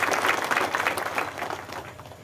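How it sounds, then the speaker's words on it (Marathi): A crowd at a political rally applauds, a dense, fairly loud wash of clapping that fades slightly toward the end. "टाळ्या वाजवून त्यांचं आपण या ठिकाणी स्वागत करा."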